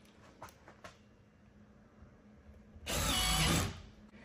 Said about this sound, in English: we're going to put the screws in first